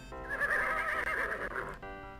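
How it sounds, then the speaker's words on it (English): A horse in the Western adventure game Freddy Pharkas: Frontier Pharmacist gives one loud, drawn-out whinny with a wavering pitch, then it stops abruptly, leaving quiet ticking behind. "It's somebody's poor horse."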